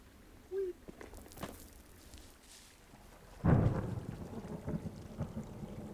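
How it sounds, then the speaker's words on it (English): Thunder rolling through the forest in Firewatch: a low, distant rumble swells into a sustained, heavy roll with rain-like hiss, fairly quiet and unaccompanied by talk. "Hey, I heard some thunder."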